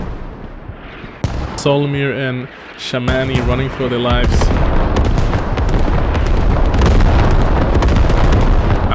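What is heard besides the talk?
artillery fire and explosions in the video game Squad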